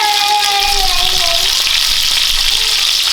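Salmon fillets sizzling steadily in a hot skillet for taco filling, a loud continuous crackling fry with no break and faint tonal whines.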